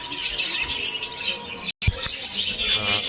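Budgerigars, including lutino and classic birds for sale, chirp in a close, busy chatter of rapid high tweets with a brief break of silence midway before the twittering resumes.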